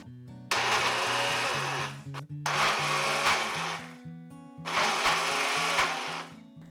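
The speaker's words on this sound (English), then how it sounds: "I'm just going to close this and blend this up." A blender purees pumpkin wedges in three loud, close whirring bursts separated by short pauses, with steady musical tones underneath.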